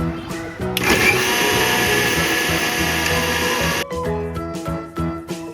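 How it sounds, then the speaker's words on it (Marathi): A mixer grinder whirs loudly and steadily as it blends mango juice with sugar, cardamom powder, milk and ice cubes, starting abruptly after brief clatter and cutting off near four seconds, followed by a few knocks and rattles. "आता मिक्सरला छान फिरवून घ्या."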